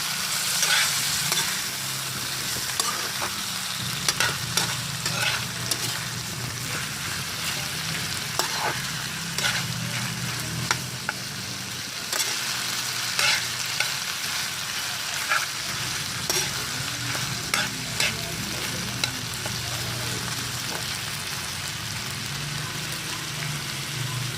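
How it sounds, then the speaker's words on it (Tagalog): Sweet ham stir-fried with garlic and onion in a pan, a continuous loud sizzle broken by frequent spatula scrapes and taps, close up with no talking. "Halo-halo lang natin siya guys. Para manuot yung lasa ng bawang at sibuyas."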